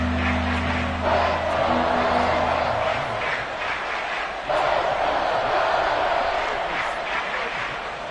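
Dense stadium crowd roar at a Minnesota football game, a steady loud wash of massed voices that swells in waves while a low hum runs beneath the first few seconds.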